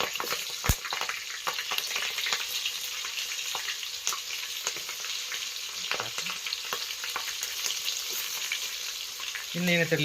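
Four green chillies, each cut in three, fry in hot oil with a crackling, spitting sizzle, sharp pops scattered throughout, and a louder scrape near the end, no talking.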